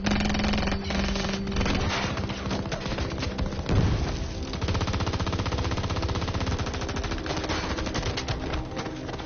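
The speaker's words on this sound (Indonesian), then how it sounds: "di sini terjadi baku tembak yang dimenangkan oleh pasukan kudeta dengan mudah" Dense, continuous gunfire from a shootout scene in the Korean film Steel Rain, with rapid automatic bursts and heavy booms filling the whole stretch, loud and close with no pauses.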